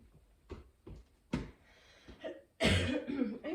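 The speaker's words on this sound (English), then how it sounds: "I'm sorry about all the coughing." Several short dry coughs come one after another, irregularly spaced and close, ending in a longer, harsher coughing fit.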